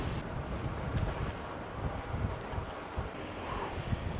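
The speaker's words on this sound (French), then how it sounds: "Regardez le vent dans les drapeaux." Wind blows and buffets outdoors during a bikepacking ride, a steady broadband rush with gusty low-end rumble against the microphone, loud and continuous throughout with no talking.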